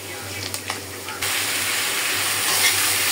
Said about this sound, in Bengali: আমি এখন এখানে পাট শাকটা তেলে দিয়ে দিচ্ছি।